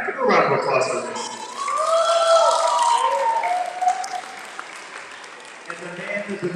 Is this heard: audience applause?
yes